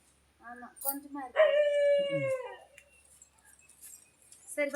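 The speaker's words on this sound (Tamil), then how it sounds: "நம்மளை பார்த்தது நாய் கத்துது" A nearby dog on a farm gives a few short yelps, then a drawn-out howl, trailing off into quieter whines.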